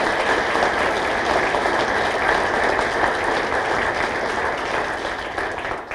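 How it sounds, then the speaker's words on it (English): A crowd at a police retirement celebration applauds loudly and densely, a continuous roar of clapping that holds steady for several seconds before easing slightly at the end. "Can you give them a round of applause?"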